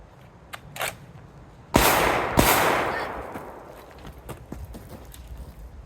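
Two loud, sharp handgun shots ring out close by, fired while the shooter moves, each trailing off into a decaying echo, with light footsteps and shuffling around them.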